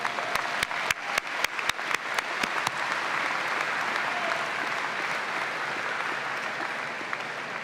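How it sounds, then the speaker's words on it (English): A commencement ceremony crowd applauding steadily for several seconds, with a few sharp, distinct claps standing out near the start before the clapping settles into a dense wash. "please join me in giving them a round of applause"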